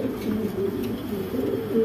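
Caged pigeons at a pigeon market coo in soft, repeated throaty calls, several birds nearby overlapping in a low warbling murmur.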